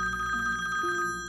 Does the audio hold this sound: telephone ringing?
yes